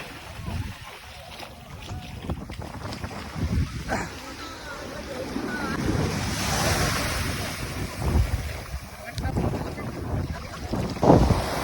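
Sea waves roll in with the incoming tide on a Dubai shoreline, a steady rushing surf with swelling breakers, heavy wind buffeting and people talking nearby.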